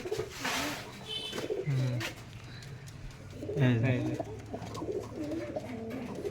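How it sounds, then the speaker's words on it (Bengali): A matched pair of pigeons kept in cages at a home coos in soft, repeated rolling bursts, with a person speaking briefly between the calls. "মাশাআল্লাহ খুব সুন্দর কবুতর জোড়া।"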